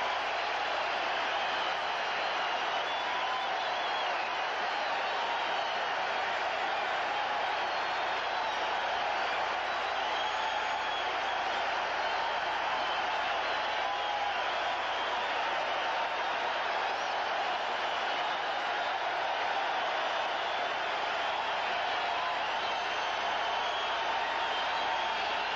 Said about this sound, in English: The ovation continues